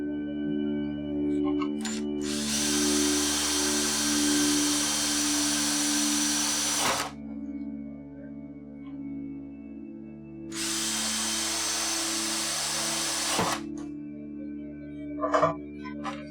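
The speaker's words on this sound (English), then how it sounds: "Go back to my 5/16 drill bit." A power drill with a 5/16 bit bores holes in a Cat Keyboard toy being circuit bent. It gives two loud, steady whining bursts, one long and one shorter, separated by a lull with a low electrical hum.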